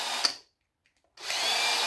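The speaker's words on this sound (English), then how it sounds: "Easier with a drill." A power drill backs screws out of brass plugs, a high whine that runs briefly, stops for a moment of silence, then starts again and runs steadily, close and loud.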